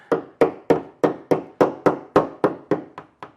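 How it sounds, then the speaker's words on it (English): Eleven evenly spaced light hammer taps seat rubber door edge guards on a 2022 Kia K5 EX Premium, each a sharp knock with a short decay, close and clear. "a light application of the hammer"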